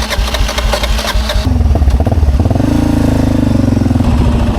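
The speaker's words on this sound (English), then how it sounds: "Bike won't start still." A motorcycle on a Baja dirt road fails to start: fast rhythmic cranking churns loudly, then the engine briefly catches into a rough, pulsing mid-pitched run before faltering, all close and loud.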